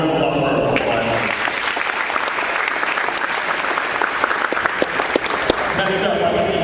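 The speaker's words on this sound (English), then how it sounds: "One more round of applause for our football line." A crowd at a high school athletic signing ceremony gives the football line a sustained round of applause, full and close, with a voice speaking briefly at the start and end.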